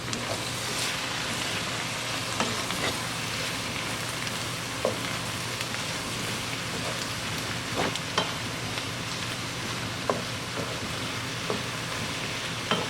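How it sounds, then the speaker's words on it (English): Onions fry for French onion and potato soup, a constant close sizzle with occasional spoon taps and scrapes against the pot as they are stirred. "You want to keep stirring your onions. So I'll mix them again."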